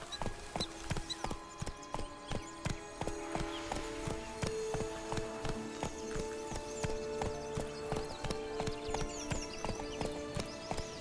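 Hoofbeats of Roach, Geralt's horse in The Witcher 3, clatter in a steady rapid clip-clop rhythm for the whole stretch, loud and close, with a brief whinny-like tone mixed in and no voices.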